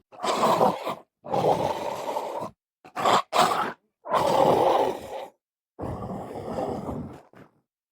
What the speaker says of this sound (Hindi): तभी वह दानव भूतिया जोर जोर से दहाड़ने लगता है।